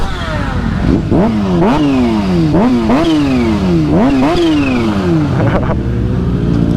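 A supercharged Kawasaki Ninja H2 motorcycle revs hard on the street, loud and close, climbing through four or five sharp rising pulls with quick drops between before settling to a rumbling idle.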